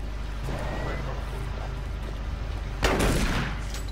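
Loud shotgun blast in the video game Doom 3, a single sharp boom with a brief rumbling tail, heard over steady game background noise.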